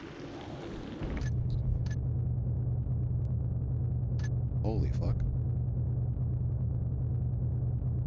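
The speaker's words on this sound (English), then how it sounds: "That thunder wasn't very loud, but it was so deep that the floor rumbled all around me." Deep, low thunder rumbles through a dark level in Thief Gold, a steady bass roar that swells in after a moment and holds for several seconds, not loud but heavy, with a man's brief shocked exclamation near the start.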